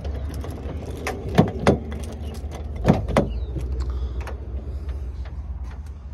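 A 2015 Kia Forte car unlocking with a few sharp mechanical clicks and clunks from its door locks, two close pairs of thuds over steady low outdoor rumble.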